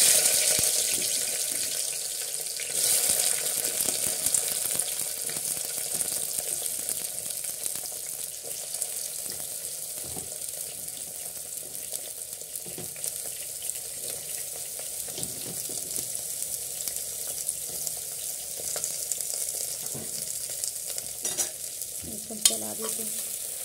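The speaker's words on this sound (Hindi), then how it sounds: "हमारा तेल गरम हो रहा है, तो उसमें हम मेथी डाल दिए हैं।" Fenugreek seeds, then eggplant for an aloo baingan curry, frying in hot oil, with a continuous sizzle and repeated stirring scrapes close by, louder at first and easing slightly over time, no voices.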